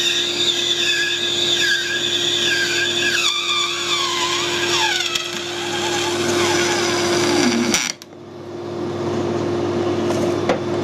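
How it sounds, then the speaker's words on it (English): A lathe parts off a Nylon 66 plastic bar, a loud steady motor hum under shifting squealing, whistling cutting tones that rise and fall for several seconds, then a sudden drop as the piece comes free and the spindle keeps spinning. "so I'm just going to part the piece off."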